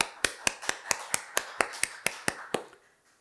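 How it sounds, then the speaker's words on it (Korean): Church congregation at a Friday worship service claps in unison, about eleven crisp, evenly spaced beats in a steady rhythm that stop and fade into quiet room sound. "우리 박수 한번 쳐줍시다."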